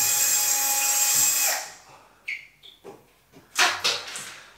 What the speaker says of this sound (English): now I'm just going to remove that ceiling fitting for the light. I've just got a drill. I'm just going to unscrew it.